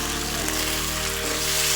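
Boiled pasta being stir-fried in a pan gives a steady, close sizzle that runs evenly through the whole short stretch, with no one talking.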